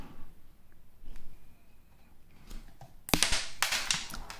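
A modified Lego Bionicle Zamor sphere launcher firing, a sharp plastic snap followed by a quick clatter of small plastic parts, close and loud after a quiet lead-in.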